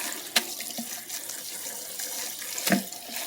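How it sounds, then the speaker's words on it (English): Cold water runs from a kitchen tap over a batch of Pasta Zero spaghetti noodles being rinsed in the sink, a steady close splashing stream with a couple of brief clatters and no talking. "So I'm going to rinse these for a few minutes and I'll give them a smell."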